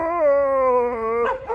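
A dog howls along to singing, one long sustained, slightly falling howl lasting over a second, loud and near, followed by brief yelping whimpers.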